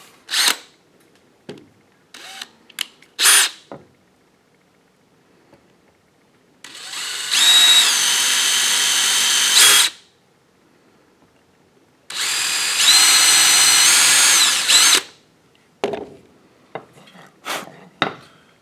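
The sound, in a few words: power drill drilling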